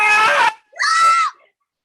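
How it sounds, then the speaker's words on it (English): Two sharp, loud screams from a woman, the first held about half a second and the second rising and falling briefly after a short pause, close and alone. "she hears a scream coming from above"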